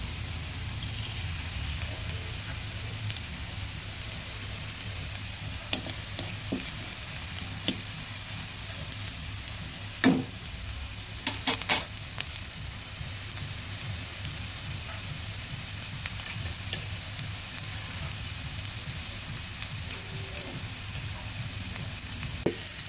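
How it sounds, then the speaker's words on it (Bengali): Onion, ginger and garlic fry with sugar in a pan, giving a steady, close sizzle throughout, with a few sharper clinks and stirring knocks partway through. "আস্তে আস্তে সুন্দর করে ভেজে নেব।"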